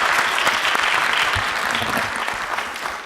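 A panel discussion audience applauds, dense and steady clapping from many hands that fades slightly toward the end.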